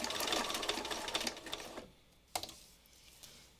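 A sewing machine runs steadily while stitching a meandering book, a fast whirring buzz for about two seconds before stopping, followed by a single sharp click and quiet room tone.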